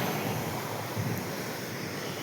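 A steady, dense roar of rushing water from Karanji waterfall on the Damanganga River, Nashik, falling into a large deep pool, constant and loud throughout with no voices, heard from close by.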